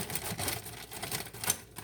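Cutco scissors snipping open a bag of frozen carrots in a home kitchen, a quick run of crisp clicking cuts and plastic crinkles, close and fairly loud.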